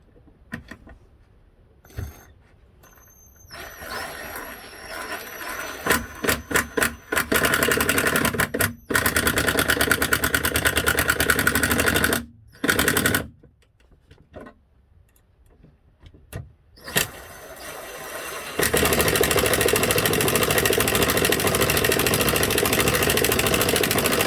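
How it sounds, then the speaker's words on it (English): A power driver with a square-head bit sets screws into a DIY truck tool storage drawer, whirring in repeated bursts that stop and start, building to a long continuous run near the end. "now I'll screw in the screws that I just drilled the holes for"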